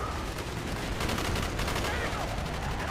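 Rapid overlapping gunfire in the Call of Duty: Black Ops campaign, a dense run of loud shotgun and rifle blasts over battle noise for three seconds, with no gaps between shots.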